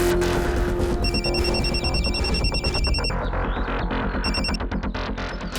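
Telephone ringing on a call to a neighbour in India, a repeating electronic ring tone in regular bursts over a dense background of music or ambient sound.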